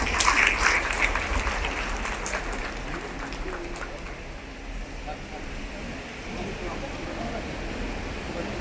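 An audience at a ceremony applauds to welcome a guest, dense, steady clapping from a crowd that continues throughout and fades slightly in the middle.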